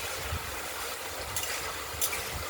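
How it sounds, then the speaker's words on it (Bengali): Spice paste frying in a pan and stirred slowly while cooking a paneer and potato curry, a steady close sizzle with faint scraping strokes and no voices. "মশলাটা কষানো হচ্ছে, ধীরে ধীরে কষানো হবে।"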